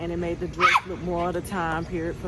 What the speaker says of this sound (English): and that's my dog out here barking.